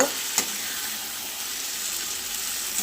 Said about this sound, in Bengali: আমি সুন্দর করে মাংসটা কষিয়ে নিই